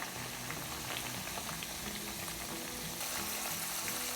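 Thin slices of pork belly fry in hot oil with a dense, steady crackle and sizzle, close up and unbroken for a few seconds.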